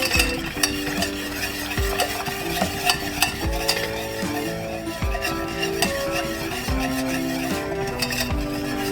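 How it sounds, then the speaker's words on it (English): A spoon stirs a blackberry mixture in a saucepan over low heat, with steady scraping and clinking against the pan in a repeating rhythm over a faint sizzle, close and clear. "Now you're going to keep cooking this on low heat, stirring constantly till it's thickened."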